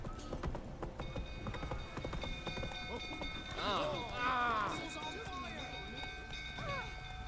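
Horse hooves clip-clop at a steady trot in The Witcher 3, close and rhythmic beneath spoken voices, game music and a brief whinny-like call.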